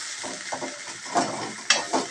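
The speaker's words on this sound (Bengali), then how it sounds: "এটা ভাজা ভাজা হয়ে একটু সোনালি কালারের রং ছাড়তে শুরু করেছে" Food frying in a pan, turning golden, with a steady sizzle broken by several stirring scrapes and bursts, close and fairly loud with no talk.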